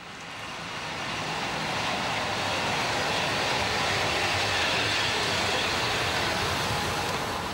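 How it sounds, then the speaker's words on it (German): A steady, loud rumble of a Prussian P8 steam locomotive pulling a freight train past, broadband rushing noise building in the first second and holding steady throughout. "An der Spitze eine preußische P8."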